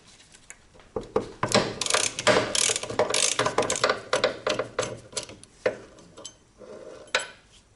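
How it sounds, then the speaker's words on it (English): A 14mm socket on a ratchet loosens the rear brake caliper bracket bolt on a Mazda MX-5 Miata NA/NB, with rapid close clicking ratchet bursts and metallic clanks in quick uneven runs after a quiet start. "To remove this bracket, you're going to need a 14mm socket."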